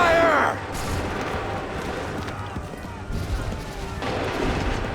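Ship cannons firing during a naval battle in Assassin's Creed III, a run of booming shots and crashes with voices shouting orders over the gunfire.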